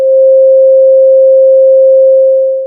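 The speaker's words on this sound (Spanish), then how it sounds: "Escuchemos entonces esta nota como tercera menor" A single pure, steady sine-like tone sounds alone as a sustained musical note, the upper pitch of a just-intonation minor third, loud and unwavering before fading out.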